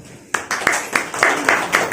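Audience clapping at a product demonstration, a short burst of about seven distinct claps in a loose rhythm, close and fairly loud.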